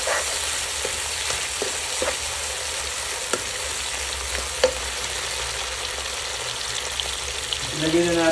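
Fish cooked with fermented black beans sizzles in a hot pan as it is stirred, a steady frying hiss broken by occasional scraping knocks and clicks.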